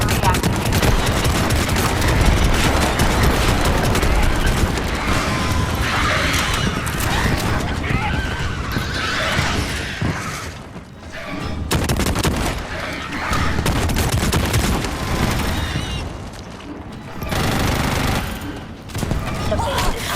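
Dense, continuous battle gunfire from a base attack on the northern wall in the sci-fi shooter Starship Troopers: Extermination, with loud overlapping bursts, explosions and game voice callouts under the din.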